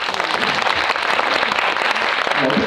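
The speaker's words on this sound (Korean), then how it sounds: "큰 박수 부탁드립니다." A cinema audience at a post-screening talk with the director and actors of the Korean film Nailed breaks into loud, dense applause, continuous clapping that fills the hall throughout.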